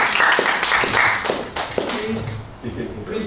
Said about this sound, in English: Please, I'm asking you politely not to applause while I read